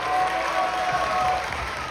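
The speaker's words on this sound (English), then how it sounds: "can we get one more round of applause for our Roses' amazing performances tonight?" A pageant audience applauds its performers in a short, steady wash of clapping from a crowd in a hall, moderately loud and without pauses.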